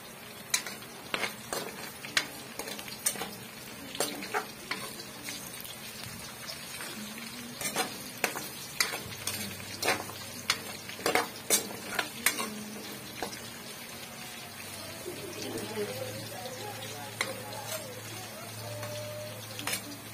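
Garlic sautéing in a pan until golden for a Filipino fish menudo, with a soft steady sizzle under regular stirring clicks and scrapes of a utensil, close and moderately quiet.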